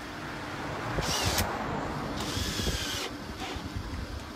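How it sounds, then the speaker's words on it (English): A power drill whines in short bursts, revving up and stopping a few times as a screw is driven in to fit a door hinge, close by. "get your screw, and you drill it back home"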